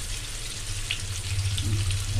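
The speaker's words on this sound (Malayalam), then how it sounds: "ചെറിയ ഫ്ലെയിം വളരെ കുറച്ചിട്ട് വേണം നമ്മൾ ഫ്രൈ ചെയ്തെടുക്കാൻ." Fish frying gently in a pan over a low flame, a steady soft sizzle and crackle continuing evenly throughout with a low hum underneath.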